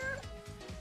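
A person imitates a cat with a few soft meows, close and fairly quiet, in a short run of voiced mews.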